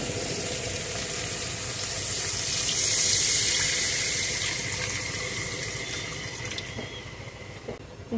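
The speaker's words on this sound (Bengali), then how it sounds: "এবার আমি ঝোলের জন্য পানি দিয়ে দিব।" Water pours steadily into a pan of hilsa fish curry with taro root, a continuous close rushing gush that swells and then tapers off slightly near the end.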